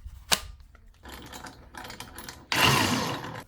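Rock crusher breaking up a sample of gold ore underground, giving a sharp crack, then intermittent grinding and rattling, ending in a loud, sustained crunching roar.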